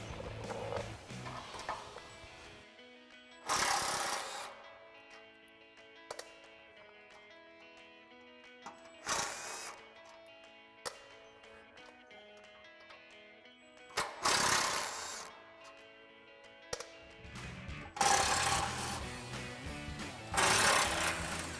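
A T40 Torx bit on a power driver backs out bracket screws on a 2021-2023 Ford Bronco, in several separate loud bursts of whirring with quiet gaps between them.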